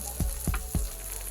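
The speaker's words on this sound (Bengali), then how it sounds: "টমেটো দিয়ে দেওয়া হচ্ছে কেটে" Chopped tomatoes go into a pan of chicken frying for a Bengali-style village chicken curry, with three thumping stirs at an even pace over a steady sizzle nearby.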